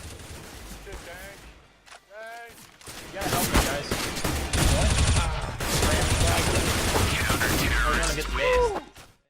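Gunfire from a competitive first-person shooter PC game: rapid bursts and sustained automatic fire with mechanical clicks and impacts, loud and dense, mixed with game voices and effects.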